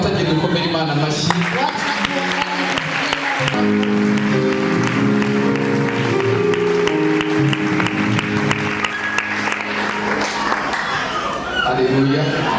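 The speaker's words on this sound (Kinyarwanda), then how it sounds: "Dufatanye dukomere Imana amashyi." A church congregation claps together at a prayer gathering, the applause swelling from scattered claps into sustained crowd clapping. Voices and sung or chanted sounds mix in over it.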